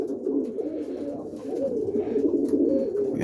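Pigeons in a racing loft cooing steadily, low rolling coos from several birds overlapping close by, continuous and fairly loud with no speech.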